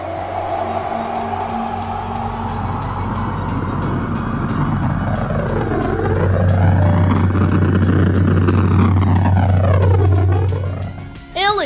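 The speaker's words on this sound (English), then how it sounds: "somebody launched a rocket into space." A rocket launching into space roars with a loud, sustained rumble and a sweeping, rising-and-falling engine whine that holds steady before cutting off abruptly at the end.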